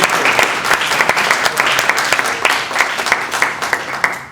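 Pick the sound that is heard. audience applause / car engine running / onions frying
audience applause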